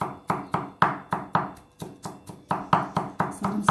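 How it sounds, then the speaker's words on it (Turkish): Garlic chopped with a knife on a cutting board for meatballs made from stale bread: a steady run of about fifteen crisp, close knocks in quick rhythm, loud and unaccompanied by talk. "Sarımsağı doğramanın en güzel yolu böyle sevgili dostlar."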